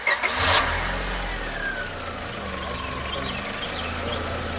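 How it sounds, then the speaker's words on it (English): A 2004 Honda Civic engine cranks and catches with a brief burst right at the start, then settles into a steady, smooth idle, heard up close right after an oil change. "I'm going to start the car up and make sure that the oil pressure comes up"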